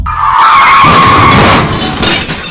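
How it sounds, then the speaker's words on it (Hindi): A speeding truck crashes as a loud, sustained skidding screech with crunching impact noise fills the moment, staying intense throughout before easing slightly at the end. "अचानक एक तेज रफ्तार ट्रक ने उसे जोरदार टक्कर मार दी"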